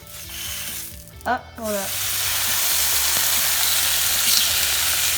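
Strips of bacon frying in a pan, a steady sizzling hiss that swells after a brief voice and clatter, then continues evenly and fairly close.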